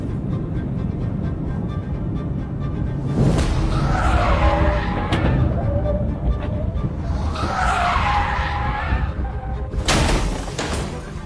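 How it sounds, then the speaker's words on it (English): A car skids hard under heavy braking during a police chase, with loud tire squeal rising twice in long bursts over steady engine and road noise, plus sharp thuds from impacts and no talk. "The driver's main tactic appears to be slamming on the brakes to cause crashes."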